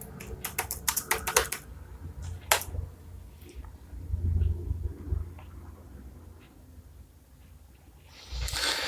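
Quick bursts of keystrokes on a computer keyboard as a search word is typed, a dense clatter early on followed by scattered taps over low background hum and a louder rustle near the end.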